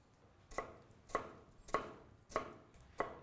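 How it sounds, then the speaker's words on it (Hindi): A knife coarsely chops onion on a board with five evenly spaced, crisp thuds about half a second apart, close and clear against a quiet kitchen; there is no talk. "मोटा मोटा काटना है, ऐसा कोई बारीक काम नहीं कर रहा मैं"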